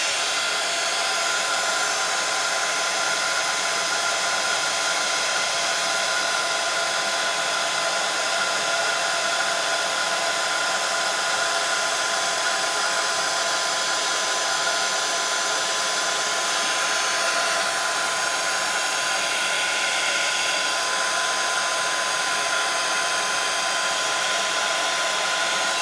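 Heat gun blowing steadily while heat embossing powder on a mixed media card, a loud continuous whooshing hiss at close range, unbroken and without speech.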